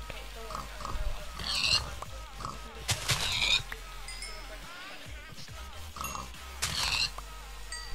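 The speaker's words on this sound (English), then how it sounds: "Finding pigs." Pigs oinking in the Minecraft video game, with short grunting snorts in a few bursts under faint game background noise.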